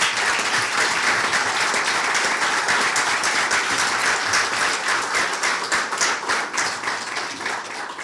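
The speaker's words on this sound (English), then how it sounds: "I'd like to give you a round of applause" A room at a university athletics press conference breaks into sustained applause, dense clapping that holds steady, then thins and fades toward the end.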